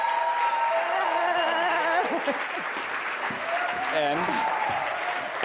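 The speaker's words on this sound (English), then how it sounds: "I'd like you to give a big round of applause to Laura Silva" A seminar audience gives sustained applause to welcome Laura Silva, daughter of Jose Silva, onto the stage; the clapping holds steady, with a voice speaking briefly and some music-like tones and cheering mixed in.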